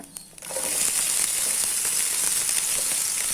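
Onions and curry leaves dropped into hot oil with mustard seeds, dal and urad dal already in the pan, bursting into a loud, steady, close sizzle that continues evenly after a brief clatter.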